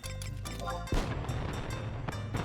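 Fireworks going off in the Final Fantasy XI video game: a loud boom about a second in, followed by scattered crackles and another burst near the end, all over busy in-game music.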